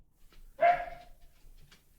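A single dog bark, fairly close and moderately loud, breaks a quiet indoor room once partway through, with faint background noise before and after.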